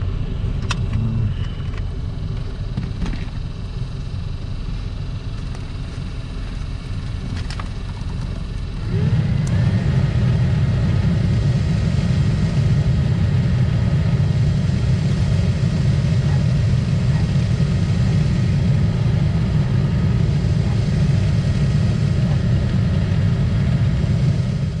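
A Chevy Tahoe blower motor runs as a steady whirring drone over a low engine idle, growing noticeably louder and fuller partway through as the fan speed steps up, then holding constant with no talking.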